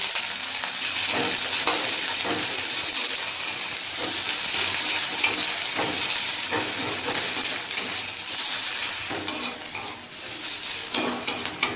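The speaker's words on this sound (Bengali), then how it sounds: "এখন কুচুনো পেঁয়াজ দিচ্ছি একটা মাঝারি সাইজে" Chopped onion, a medium one, frying over medium flame in oil with whole cumin and a bay leaf: a steady, loud sizzle with occasional stirring and utensil scrapes, no voices.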